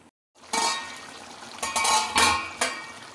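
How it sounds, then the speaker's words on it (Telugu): A lid goes onto a pot of handi chicken after water is added, with a few separate clanks and a rattle of metal against metal, close and fairly loud after a brief silence. "ఇంకా ఇప్పుడు మూత పెట్టేసి ఒక 10 నిమిషాలు కుక్ చేసుకోవాలి."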